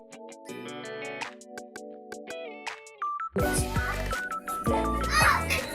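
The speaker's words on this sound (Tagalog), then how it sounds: "Ang iingay talaga ng mga bata dito." Indoors at home, children nearby talk loudly and play, their voices rising close to the microphone after a short electronic melody that sounds like a toy or ringtone.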